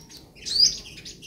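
A sunbird gives a single short, high chirp, close and fairly clear over a quiet background.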